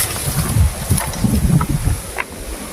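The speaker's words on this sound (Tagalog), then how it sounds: "lakas ng hangin dito oh." Strong wind buffets the microphone in rumbling gusts, with faint scattered knocks and clicks in the background.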